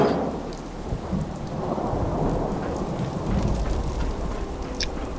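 Rain pours steadily with rolling thunder rumbling underneath, the weather effects of the Fallout 4 video game, continuous and fairly loud with no talk.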